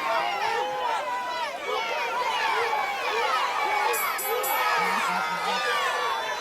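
Crowd in a boxing arena during a bout, a dense hubbub of shouting, whoops and cheering voices rising and falling throughout, with a few brief higher tones near the end.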